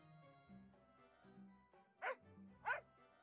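A dog in the online role-playing game Record of Lodoss War Online gives two short, sharp barks in quick succession over soft background game music, fairly close and clear.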